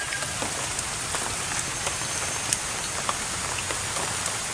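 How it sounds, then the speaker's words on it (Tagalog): Steady rain falls outdoors near a collapsed house, a dense even hiss with scattered drop taps, fairly faint and uninterrupted, with no voices. "Umuulan na."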